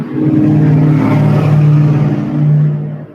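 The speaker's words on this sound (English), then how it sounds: "I'm going to let that car pass. I know that was loud." A loud car passes close by outdoors, its engine roar swelling and holding for a few seconds, then fading as it moves away, with no talking over it.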